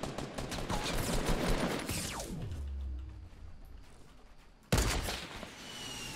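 Gunfire in the Fortnite Battle Royale video game: a dense burst of shots fills the first couple of seconds, fades out, then a sharp loud report cuts in near the end, with a steady game background throughout.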